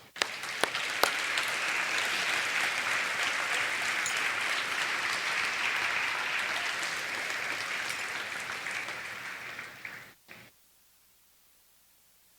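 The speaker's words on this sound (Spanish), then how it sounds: "Dele un aplauso al rey." Sustained applause from a church congregation fills the hall for about ten seconds, dense and steady at a fairly loud level, then cuts off sharply into near silence.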